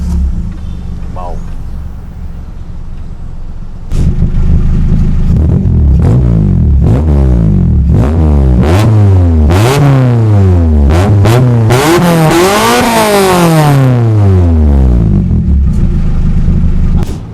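A loud, modified 2004 Suzuki Karimun GX engine revs repeatedly, rising and falling in pitch in close, aggressive bursts after a quieter idle start.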